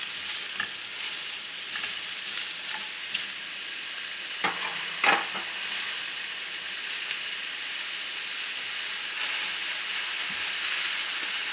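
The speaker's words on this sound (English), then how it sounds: "You cook them till they're a little bit soft and dark and delicious." Mushrooms and bacon fry in a pan with a steady bright sizzle and hiss, broken by a few sharper crackles and pops partway through, moderately loud and with no talking.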